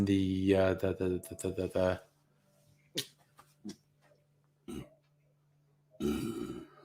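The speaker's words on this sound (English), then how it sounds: "a burp for variety" A single loud, drawn-out burp at the start, followed by quiet pauses with a few brief vocal grunts and breaths.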